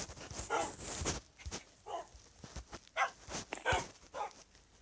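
Several short, sharp barks and yips from a Minecraft dog or wolf ring out one after another in a fairly quiet, slightly artificial-sounding setting, with brief gaps between them.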